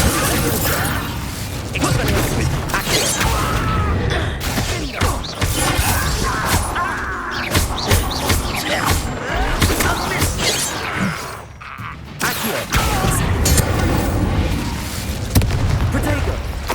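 Incendio fire spell cast in Hogwarts Legacy, a loud roaring burst of magical fire with crashing, booming impacts and mechanical rumbling, sustained throughout with a brief dip near the end, while a voice speaks over it.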